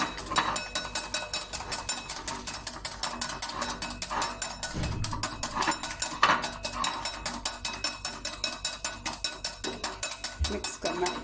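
Pancake batter being stirred in a bowl, a fast run of rhythmic scraping clicks from the whisk or spoon that continues steadily through the whole stretch, with faint background sounds.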